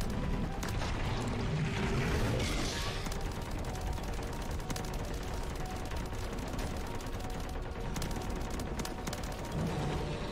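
Rapid automatic gunfire in Call of Duty MW3 Zombies during a boss fight against a red worm, with dense bursts of shots crackling continuously under faint game effects.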